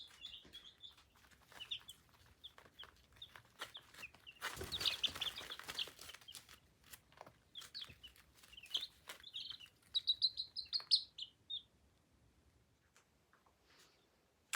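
Young Easter Egger pullet chicks, two to three weeks old, in a garage, giving scattered high chirps and peeps with a burst of fluttering and clucking in the middle, close and fairly quiet.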